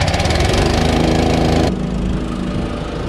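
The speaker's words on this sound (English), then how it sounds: "There we go, the air compressor started." An air compressor at a sheep-handling shed runs with a loud, steady mechanical drone, its pitch and level dropping slightly partway through as the motor settles.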